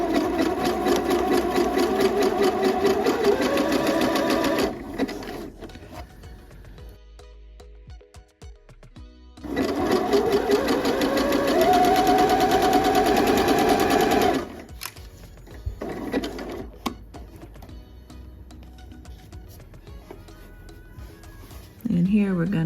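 Sewing machine back stitching the seams of a top from sewing pattern S9337, loud steady motor whirring in two long runs separated by a quiet pause, then briefer bursts of stitching toward the end.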